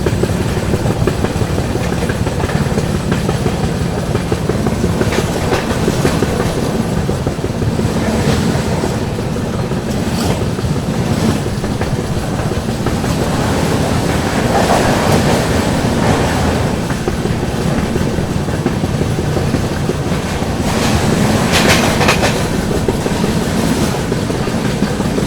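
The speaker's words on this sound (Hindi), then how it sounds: "यहाँ पर अपनी पाटलिपुत्र सुपरफास्ट एक्सप्रेस ने स्किप कर दिया है बिना रुके दिलदार नगर जंक्शन रेलवे स्टेशन को" 12141 Patliputra Superfast Express runs through Dildar Nagar junction at caution speed without stopping, a loud, continuous rolling rumble with clickety-clack from the wheels throughout.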